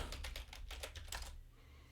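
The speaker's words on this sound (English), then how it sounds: "Type in our password." A password is typed on a Mac keyboard as a quick run of soft, close key clicks for just over a second, followed by quiet.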